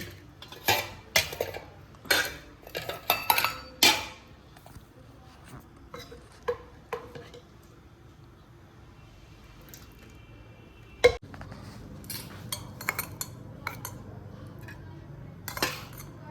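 Dal served onto children's plates, with bursts of clinking dishes and cutlery, a few soft wet plops, and quieter gaps between the clatter, close by.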